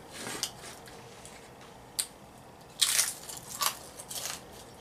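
Crunchy Laotian chicken nachos with sour, oniony toppings are bitten and chewed close up, with several separate crisp crunches spaced out over a few seconds against a quiet background.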